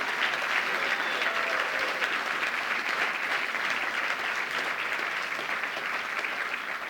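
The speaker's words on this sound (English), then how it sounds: "Please give yourselves a nice big round of applause tonight." Guests at the National Apprenticeship Awards 2021 final ceremony give a sustained round of applause, a dense, even roar of many hands clapping at steady volume throughout.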